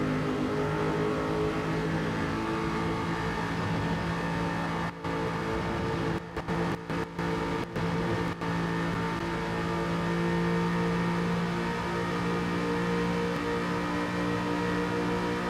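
Race car engine at a steady high drone throughout, heard from on board during an Aston Martin sim racing video game session, loud and continuous with brief dips and cuts in the middle, no talk.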